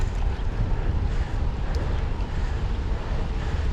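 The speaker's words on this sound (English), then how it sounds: "oh boy, it's windy." Strong wind buffets the microphone while riding a carbon bike outdoors, a steady loud low rumble with gusty roar throughout and no talking.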